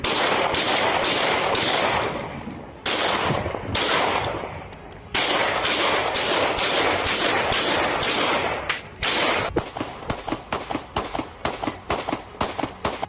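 Rapid gunfire outside a singer's house in Vancouver, British Columbia: long loud volleys of sharp cracking shots, then a string of separate bangs in quick succession near the end.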